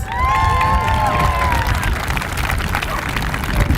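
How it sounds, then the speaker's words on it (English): An outdoor audience at a plaza grand opening celebration applauds and cheers after a youth dance performance, with loud sustained clapping, crowd hubbub and voices mixed together, and a fading tonal music tail at the start. "Let's give Cherry Creek Dance another round of applause."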